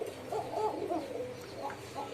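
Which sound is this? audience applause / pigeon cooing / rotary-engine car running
pigeon cooing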